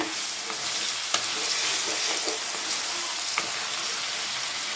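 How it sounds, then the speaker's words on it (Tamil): Chicken frying in hot oil in a pan for a Tamil Asari varuval, a steady broadband sizzle with occasional scrapes and clicks of stirring, close and fairly quiet, with no voices. "இப்போ இதோட சிக்கனை சேர்த்துடலாம். நல்லா கலந்துக்கோங்க."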